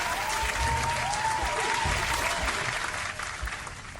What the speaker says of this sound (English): We'll give a little round of applause for Leto with a nice maneuver